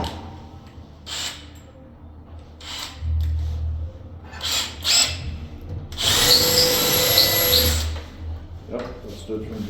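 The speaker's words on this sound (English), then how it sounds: "I'm gonna drill another 1/4 inch hole from the other side and then start drilling from the other side" A power drill bores a 1/4 inch hole into a door for a deadbolt lock, with short bursts and a long, loud grinding stretch of drilling, separated by quieter pauses.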